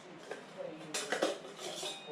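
Metal camping saucepans nest into one another while motorcycle camping cookware is packed, giving soft close clinks and scrapes at low volume.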